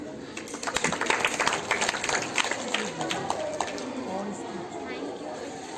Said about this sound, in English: Please big a round applause